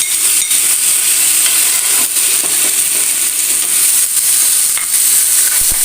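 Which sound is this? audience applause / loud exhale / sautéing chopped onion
sautéing chopped onion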